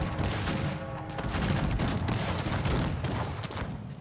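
Cannons and massed guns fire in a Cossacks 3 battle, with rapid overlapping bursts and booms crowding together into a loud, continuous barrage across the whole stretch.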